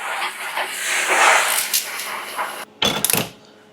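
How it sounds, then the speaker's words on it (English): Water hisses and steams as it hits a hot home oven baking sourdough bread, a broad rushing hiss that swells and fades, then a few sharp clattering knocks and bangs close by before it quiets. "This water is for steam."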